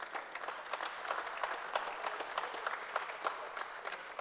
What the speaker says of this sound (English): A round of applause that you have given speaks for itself.